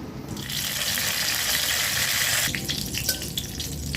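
Panch phoron spices and green chilies dropped into hot oil in a wok, a steady hissing sizzle that swells and then eases back, with a faint pop or two toward the end.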